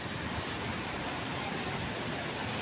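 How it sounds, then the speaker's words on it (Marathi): Water tumbles down the rocky ghat at Dhasgad, a natural scenic spot, producing a continuous broad roar of falling water that stays loud and unbroken throughout. "पाणी उतरताना घाट पाहायला मिळतोय"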